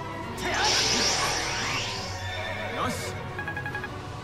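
A horse neighs in the video game Fire Emblem Awakening, a loud whinny rising over game music and effects with someone talking throughout.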